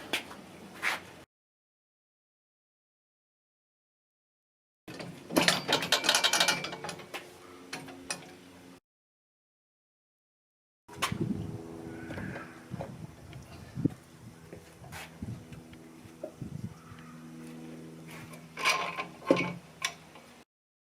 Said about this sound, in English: Spinning wheel. Got it.